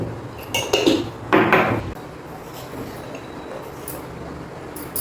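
Bitter gourd with spices is stirred in a bowl, giving two short bursts of scraping and clinking close by, followed by quieter faint rustling with no talk.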